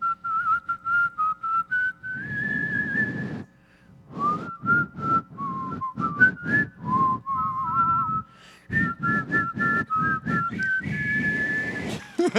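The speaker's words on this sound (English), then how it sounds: "can you guys whistle to Les Miserables?" Someone whistles a tune from Les Misérables in clear phrases with short pauses, close and fairly loud, at a convention, with soft background noise between notes.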